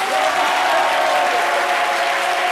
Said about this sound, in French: Neba, que je vous demande d'applaudir.